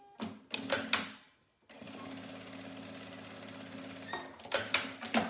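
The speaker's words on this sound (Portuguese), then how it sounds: "Costura reto até o final." A sewing machine runs a straight seam across fabric for a manicure pouch, with short bursts of rapid stitching at the start and end around a long, steady run of close, mechanical whirring.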